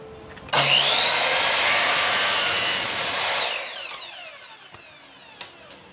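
A miter saw whines up loudly and cuts through wood for a boat paddle for about three seconds, then spins down with a fading ring and a couple of faint clicks.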